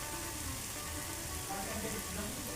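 Chopped tomatoes and onions frying in a pan, a steady soft sizzle that holds evenly throughout with no talking.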